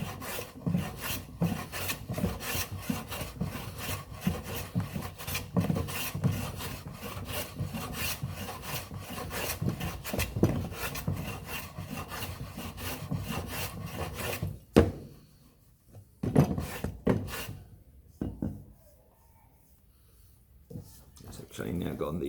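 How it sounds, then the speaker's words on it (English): A hand plane shaves wood pieces for an oil stone case, giving steady, close, raspy strokes that end around the fifteen-second mark, followed by a few scattered scrapes and handling sounds. "I'm planing down those so they match perfectly."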